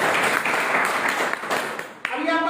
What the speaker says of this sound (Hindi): वेरी गुड, जोरदार ताली बजाओ।